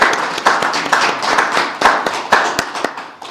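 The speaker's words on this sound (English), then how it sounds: "can we give our speakers one more big round of applause?" A lecture audience gives a loud round of applause for the two speakers of a talk on Utah in World War II, steady close clapping with a few sharper individual claps standing out.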